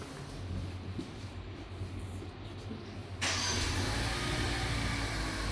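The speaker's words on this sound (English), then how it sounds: "let's start the engine." A Jaecoo J7 SUV engine starts up partway through, after a low murmur, and then settles into a loud, steady, broadband idle.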